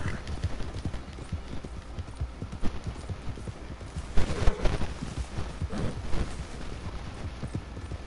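Rapid clip-clop of horse hooves galloping in Red Dead Online beats steadily, with a few louder thuds partway through and a faint whinny-like sound in the background.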